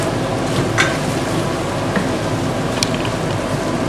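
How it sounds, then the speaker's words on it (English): Stuffed tomatoes and peppers simmer in a pot on a hob that has just been switched off, giving a steady wet bubbling sizzle with a few soft scrapes of stirring, close and continuous. "Give it a good stir."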